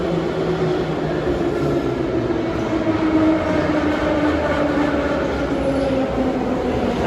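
An old metro train runs through a Russian underground line, a loud, steady rumbling roar with droning hum tones and faint rail clatter that holds constant throughout, close by and with no one talking.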